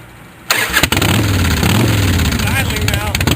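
A cold 2010 Fat Boy motorcycle engine catches and settles into a steady, loud idle close by, a low chugging rumble running without pause after a brief start.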